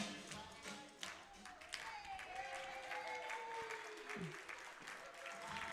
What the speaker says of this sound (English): a nice round of applause for our competitors